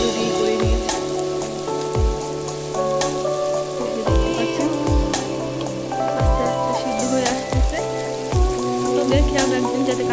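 Vegetables sizzle and crackle steadily in a hot pan for vegetable fried rice, a continuous loud frying hiss with periodic low knocks, and no voices.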